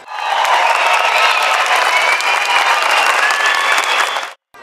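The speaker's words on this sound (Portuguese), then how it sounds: "o público retribuía com muitos aplausos" Dense, steady applause from a large crowd at a Brazilian Army exhibition in a shopping mall, following a song, sustained and loud for about four seconds before cutting off abruptly.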